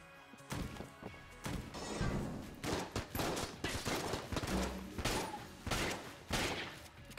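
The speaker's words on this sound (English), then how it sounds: "Just get destroyed by my shotgun, please" Shotgun fire from the Enter the Gungeon video game comes as a rapid series of punchy blasts and impacts in irregular bursts, loud and close, with a few brief gaps between volleys.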